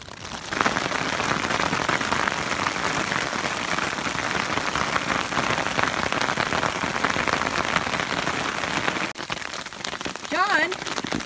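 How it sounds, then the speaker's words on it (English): Heavy rain pounds a backpacking tent in the Sierra near Cottonwood Lakes, a dense, steady patter of drops on fabric close by, with a brief lull near the end and a few faint bird-like chirps. "Okay, now it's really, really raining."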